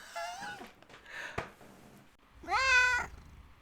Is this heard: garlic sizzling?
no